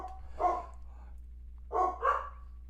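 Dogs bark in the background of a live stream: one bark, a pause, then two more close together, moderately faint and with no talking over them.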